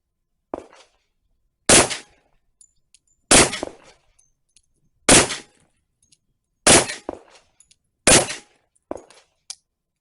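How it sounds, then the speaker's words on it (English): Loud, sharp 10mm pistol shots from a Rock Island Tac FS HC firing 180 grain copper-plated hollow point rounds at an outdoor range, about six evenly spaced blasts with short ringing tails and faint metallic clinks between. "I'm going to be shooting these 180 grain hollow point copper plated with a spicy load."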